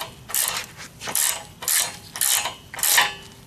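A ratchet tightening long front bumper bolts on a 2004 Jeep TJ, close up and loud, with five or six repeated bursts of rapid clicking in a steady back-and-forth rhythm.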